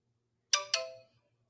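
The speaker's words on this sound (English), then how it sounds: "that was my phone." Mobile phone alert: two quick bright chime tones in rapid succession, each ringing out briefly, faint against a near-silent room.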